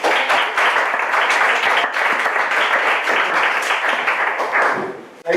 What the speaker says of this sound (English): A round of applause for Michael Kellett.